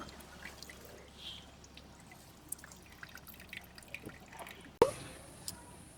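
Excess water is squeezed out of homemade paneer made from jackfruit seed milk, giving faint, scattered drips and trickles, then a sudden splash and a steadier stream near the end.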